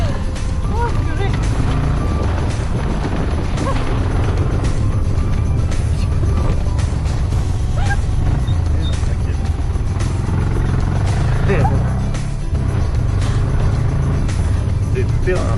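A three-wheeled off-road vehicle, built like a 4x4, drives along a rough climbing route near the Guatemalan border: a continuous close engine rumble with bumps and rattles, with people talking over it.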